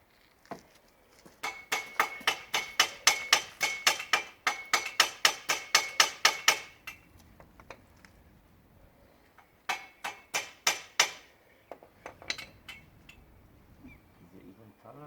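Rapid metallic hammering on a Vauxhall Astra mk5 front exhaust down pipe during replacement, a fast run of ringing close strikes that stops, then a few sparser blows and taps, with people talking in the background.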